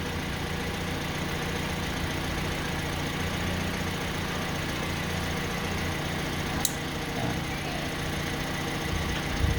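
A repaired Toyota Avanza auxiliary fan motor runs on a test bench, giving a steady, even whirring hum throughout with one brief click partway through.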